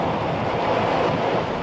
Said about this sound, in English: here you can see the water's just whipping up, the wind is whipping up, the surf is just coming right across the front of our car